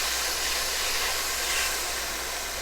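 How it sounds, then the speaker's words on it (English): One medium chopped onion sizzles in hot oil over medium heat, a loud steady hiss of frying with no talk. "In the same oil, we are going to fry the onion."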